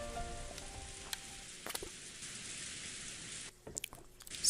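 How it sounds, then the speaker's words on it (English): Rain pounds against a window in the visual novel game Umineko: When They Cry, a steady, dense hiss that thins out briefly near the end before returning. "It's always gonna be raining for the rest of the freaking game."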